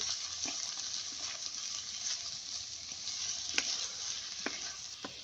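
Chopped cabbage and capsicum sizzle and hiss in a hot pan for street-style veg chowmein, with a steady bright fry punctuated by a few soft scrapes and knocks as the vegetables are stirred.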